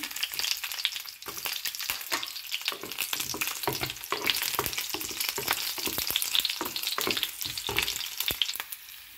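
Dried red chilies and garlic sizzle in hot oil in a pan while cooking a Bengali prawn bharta, a steady close crackle with occasional stirring scrapes and no talk.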